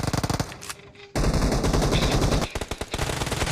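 Automatic gunfire in the shooter video game PUBG: loud, rapid repeated shots in bursts, with a brief lull before a dense sustained barrage and a few more bursts at the end.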